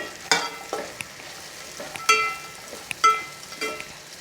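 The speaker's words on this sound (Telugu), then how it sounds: "అన్నీ వేసుకొని బాగా కలిసేలాగా కలుపుకోవాలి" Curry leaves, green chilies and peanuts being stirred in a hot pan, with a soft continuous sizzle broken by several sharp scrapes and clinks of a spoon against the pan, close and alone.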